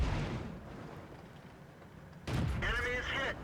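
A tank cannon fires in the video game World of Tanks, a single sharp booming blast late in the clip after a low rumbling ambience, followed by a ringing metallic tail.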